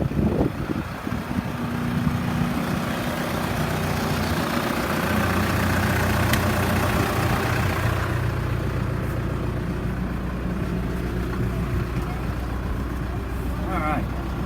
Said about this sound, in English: we're gonna jump in the tractor now